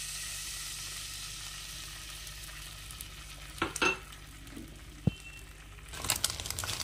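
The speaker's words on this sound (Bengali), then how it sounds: "এখন কড়াইয়ে তেল তেল আছে, এর মধ্যে একটা ডিম ফাটিয়ে সামান্য লবণ দিয়ে ভেজে নেব" An egg frying in oil in a wok, a low steady sizzle with a few louder bursts of stirring and crackle midway and near the end.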